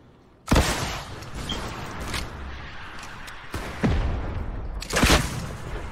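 RPG rocket blasts in a multiplayer shooter video game: three heavy booming explosions spaced a few seconds apart, each with a sharp onset and rumbling tail over a constant background.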